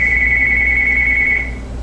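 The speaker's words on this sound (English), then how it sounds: "The phone's ringing!" A phone rings with one steady, high electronic tone that holds for about a second and a half and then stops, loud and close over a low background hum.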